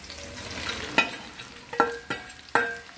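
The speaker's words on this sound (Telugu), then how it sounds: "బెండకాయలు వేసేస్తున్నాను." Okra frying in a pan with curry leaves and a pinch of asafoetida hisses softly while a spoon scrapes and stirs it in four or five distinct clanking strokes, close and alone.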